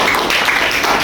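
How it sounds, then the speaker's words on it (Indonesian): Classroom group of students clapping for group 6 in an Islamic studies class, a dense steady patter of hands filling the moment without voices. "tepuk tangan buat kelompok 6"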